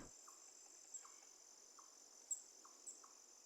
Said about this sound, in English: you can hear like the crickets, a few birds tweeting